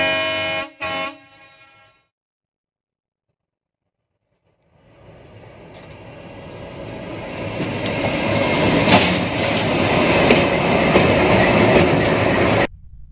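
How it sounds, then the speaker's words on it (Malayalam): A train arrives at Bodinayakanur railway station on a broad-gauge trial run near Theni. Two short, loud horn blasts are followed by a pause, then a rumble and clatter that steadily build as the train draws near, and the sound cuts off sharply at the end. "വർഷങ്ങൾക്ക് ശേഷം ട്രെയിൻ എത്തി."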